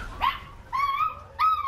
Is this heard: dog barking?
yes